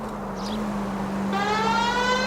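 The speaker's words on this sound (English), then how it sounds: "siren sounds so horrible this game now" A steady car engine drone runs throughout, then a shrill, tonal police siren in L.A. Noire cuts in partway through and keeps sounding loudly until the end.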